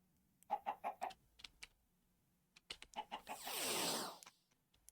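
Minecraft chickens cluck in quick clustered bursts, a few short clucks close together, a pause, then more, followed by a louder sweeping whoosh from the game.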